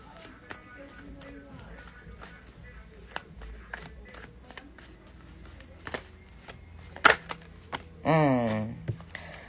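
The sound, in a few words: shuffling tarot cards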